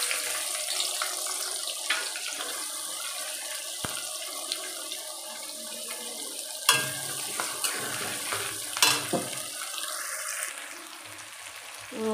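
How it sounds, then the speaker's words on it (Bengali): Whole garam masala and dry red chillies crackle in hot oil, then onion goes in for a meat curry; a steady broad sizzle runs throughout, with a few sharp clinks and stirring knocks near the pot. "এই মাংসর এই যে গরম মশলা ফোড়ন দিয়ে দিয়েছি, শুকনো লঙ্কা, পেঁয়াজটা দিয়ে দেবো।"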